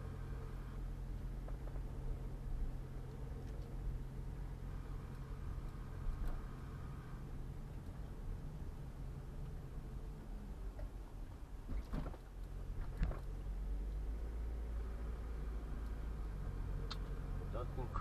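Cabin sound of a 2008 Toyota Prius on a short lap: a low, steady road and engine hum with occasional soft knocks and rattles, faint and constant throughout.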